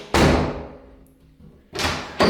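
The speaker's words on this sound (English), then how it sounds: "So once again, we'll close the door." A repaired interior door that previously would not latch swings shut with a loud thud and latch click, then is closed again with a second solid bang followed by a sharp latch snap, close and clear with no talking.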